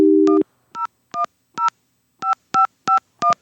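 Telephone keypad tones, seven crisp beeps in an uneven quick sequence after a short burst of dial tone, loud and close with silence between presses.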